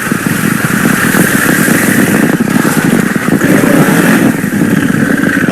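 Honda Africa Twin adventure motorcycle engine held at steady elevated revs with rear brake dragging through a tight low-speed U-turn, a loud, close, continuous buzzing drone with slight fluctuations.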